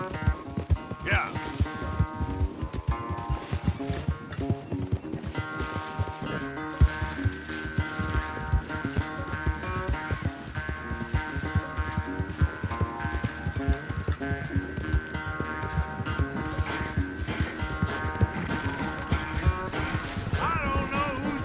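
A horse gallops during a race in the video game Red Dead Redemption 2, its rhythmic clip-clop hoofbeats continuing steadily throughout beneath sustained game music.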